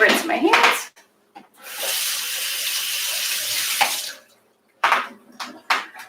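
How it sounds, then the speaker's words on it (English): Hands are rinsed under a running kitchen tap during paella cooking, a steady close gush of water lasting a couple of seconds, framed by brief clatters and splashes. "Gonna rinse my hands."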